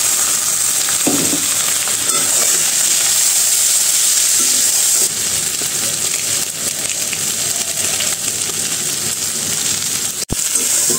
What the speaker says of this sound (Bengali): এখন দিয়ে দিব সেদ্ধ করে রাখা নুডলস।